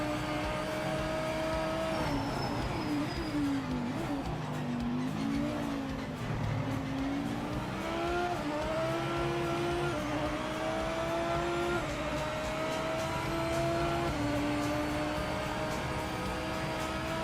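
A BMW GT3 race car engine in Project Motor Racing drones loud and steady on track, its pitch climbing and dropping through gear changes and revs, close and continuous with no talk.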